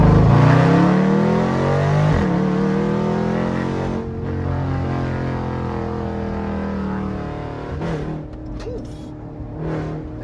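A Jeep SRT engine fitted with catless mid pipes revs hard and loud up close, a deep sustained roar that eases off midway and then jumps back with a few sharp blips near the end.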